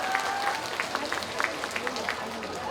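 An audience at a festival celebration concert claps steadily in a spread of scattered hand claps, moderately loud and fairly close, with voices murmuring underneath.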